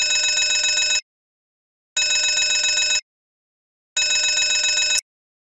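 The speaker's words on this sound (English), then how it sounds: "The fire alarm on your rig sounds like this." A fire alarm on a drilling rig at a Shell facility in Qatar sounds a bright, buzzing ringing tone in three one-second bursts separated by one-second gaps, loud and steady with no talking.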